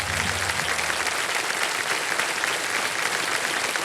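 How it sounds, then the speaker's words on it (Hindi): Studio audience applauding on a televised quiz show, a steady dense wash of clapping that carries through the whole stretch at even volume, with a brief low tonal sting of show music near the start. "तालियां बज जाए इनके लिए।"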